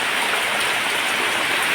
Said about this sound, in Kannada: ಮಳೆ ಕೂಡ ಸ್ಟಾರ್ಟ್ ಆಯಿತು ಜೋರು ಮಳೆ